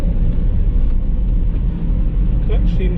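Vauxhall Vivaro 5-speed van on the road with a freshly replaced clutch, a steady loud engine and road rumble filling the cabin throughout, with faint voices under it near the end.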